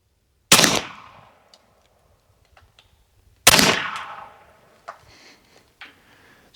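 AEA Harpoon long-barrel .50 caliber air rifle firing two loud, sharp shots about three seconds apart, each with a decaying report, followed by a few faint clicks and handling sounds.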